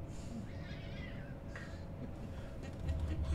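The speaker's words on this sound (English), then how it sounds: "there's cats fighting outside" Cats fighting outdoors in a garden, yowling and meowing faintly in the distance, heard through a slightly open window over a low steady hum.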